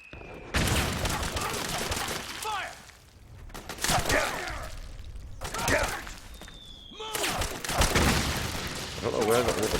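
Machine gun fire from an MG nest in the video game Metal Gear Solid 4, several loud bursts of rapid shots separated by short pauses, with sharp impacts and clatter between them.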